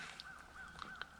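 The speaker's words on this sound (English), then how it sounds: "Crows are out." Crows caw faintly in the distance outdoors on a frosty winter morning at a state park campsite, a few short calls over quiet background air.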